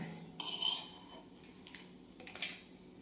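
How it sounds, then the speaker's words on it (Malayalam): Metal spoon scooping fried dried red chillies out of a pan of oil, making a few faint clinks and scrapes over quiet background. "ഇനി അത് നമുക്ക് കോരിയെടുക്കാം."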